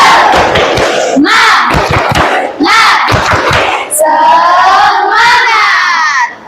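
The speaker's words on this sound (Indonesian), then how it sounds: "Tepuk semangat." Classroom of schoolchildren performing a rhythmic 'tepuk semangat' clapping chant, loud group shouts alternating with bursts of clapping, close and energetic throughout.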